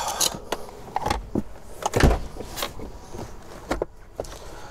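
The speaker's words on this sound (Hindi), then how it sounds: "इस स्ट्रैप को इस तरह से खोलिए और इसे खींच करके छोड़ दीजिए और ये फिर से अपनी जगह लग जाएंगी।" Rear seats of a Kia Carnival minivan spring back into place after a strap is pulled and released, giving a few sharp mechanical clunks and rustles up close inside the cabin.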